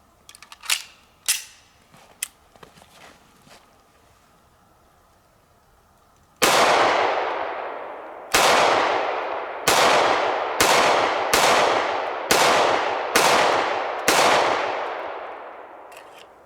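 A Smith & Wesson 4566 .45 double-action pistol fires eight loud, sharp shots in quick succession, each ringing out with a long echoing decay, after a few faint handling clicks and knocks.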